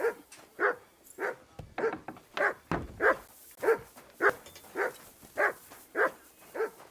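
Dog in the Kingdom Come: Deliverance II video game gives a rapid, even series of short, high barks and yips, about two a second, loud and near, with no talk over them.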